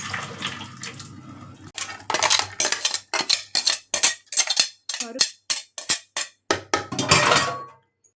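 Boiled chana dal is strained in a kitchen pot. Running water pours at first, then a rapid series of sharp metallic clanks and taps follows in an uneven rhythm.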